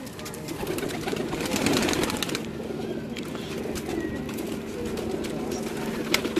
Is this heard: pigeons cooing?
yes